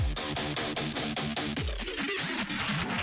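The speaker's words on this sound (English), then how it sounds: "I used the same thing, but I down pitched it 12 octaves" An electronic drop from a remix of a song, pitched down an octave, pounding in dense, fast rhythmic pulses, loud and heavily distorted, with a slowing, vinyl-stop-like sweep in the second half.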